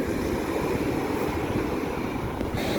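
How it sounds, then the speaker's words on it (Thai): Sea waves wash steadily onto the beach at Chao Samran Beach, Thailand, a continuous broadband rush that stays loud and even throughout with no voices. "มาฟังเสียงเล่นทะเล"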